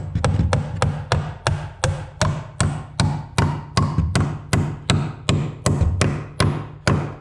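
Steady hammer blows drive a duplex nail into formwork for a rebuilt foundation wall at an old abandoned church, about a dozen sharp, close, evenly spaced strikes ringing out alone.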